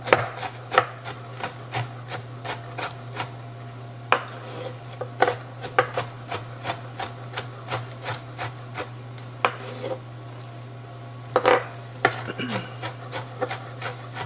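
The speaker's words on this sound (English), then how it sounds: "So I'm going to chop them up in smaller pieces." Knife chopping frozen peppers and onions into smaller pieces on a board, a steady series of sharp close chops with short pauses over a constant low hum.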